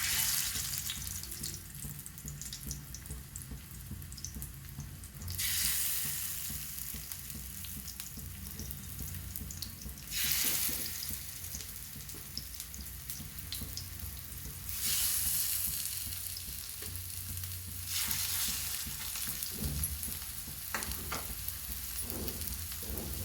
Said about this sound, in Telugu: ఇప్పుడు చేప ముక్కలు వేసుకోవాలి.